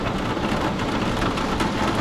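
Heavy rain drums steadily on the thin roof of a camper van overhead, a dense, continuous patter with no voices.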